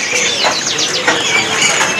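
Birds at a bird shop kiosk, a dense mix of chirps and calls from many caged birds overlapping continuously at close range.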